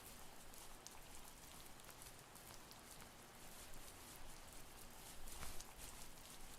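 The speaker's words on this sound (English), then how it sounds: "The soft pitter-patter of the rain in lieu of any music or audio" Soft rain patters steadily in a quiet outdoor area of the game The First Tree, a faint, even hiss of droplets with occasional slightly sharper taps, no music or voices.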